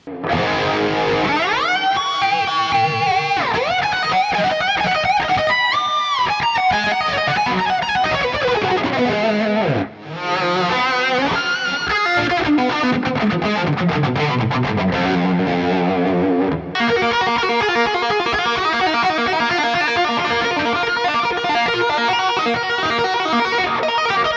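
Heavily distorted electric guitar, a Kramer Nightswan, plays fast 80s-style lead lines and bends, with echoing delay and reverb trails, loud and continuous without talk.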